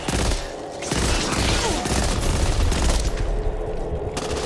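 Loud, sustained gunfire in the co-op zombie shooter Back 4 Blood: rapid overlapping shots and bursts run almost without a break through the whole stretch.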